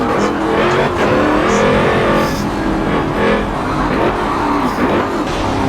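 A Porsche race car in a racing game drones with a loud, steady engine note that rises and falls through gear changes and acceleration, up close with no pauses.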